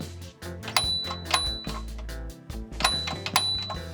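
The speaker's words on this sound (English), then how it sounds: "which plays a bell ringing sound." A Thomas Wooden Railway toy bell tower plays its electronic bell-ringing sound, a loud sequence of bright chiming dings repeating in a rhythmic pattern with no talking.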